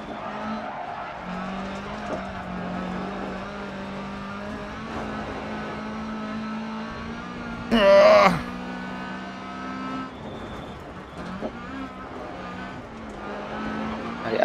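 Rally car engine droning and tires skidding on a rallycross course in DiRT Rally, S1600 class, with steady engine noise and a sharp loud skid burst midway, alone without talk.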